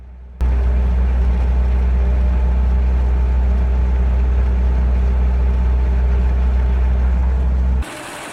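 A stump grinder engine, used for tearing out tree stumps, fires up with a sudden loud onset and then runs at a steady, heavy, droning roar for several seconds before cutting off abruptly.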